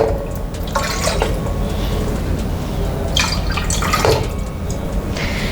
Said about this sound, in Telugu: వాటర్ వేసుకోవాలి.